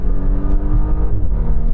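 An Audi Q5 engine pulls hard under acceleration with paddle gear shifts, a loud close rising drone that drops in pitch at a shift partway through.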